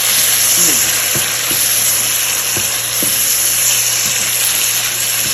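Tomatoes and onions fry in a hot pan for a Lahori murgh cholay gravy, giving a loud, continuous sizzle with occasional soft clicks of stirring close by.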